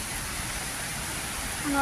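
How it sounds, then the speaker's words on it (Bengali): Steady, dense rain hisses continuously, close and loud, a broad wash of noise with no breaks. "প্রচণ্ড বড় বৃষ্টি হচ্ছে"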